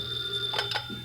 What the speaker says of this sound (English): it's only the phone.